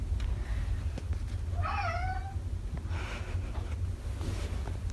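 A single drawn-out cat meow, rising then falling, close by over steady low wind rumble outdoors.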